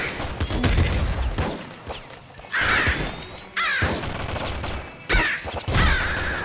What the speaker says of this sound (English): Oh shit, I have grenade launcher.